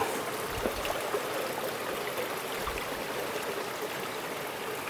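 A creek flows steadily along a wooded trail, giving a constant low trickling and gurgling wash with no break across the clip and no voices over it.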